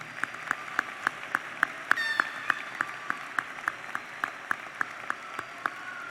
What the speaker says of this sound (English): Please join me in a round of applause for these folks.